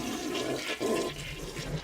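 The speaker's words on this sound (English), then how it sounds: "and flushing the toilet" A household toilet flushes with a steady rushing gush of water that fills the whole moment, close and fairly loud, with no voices present.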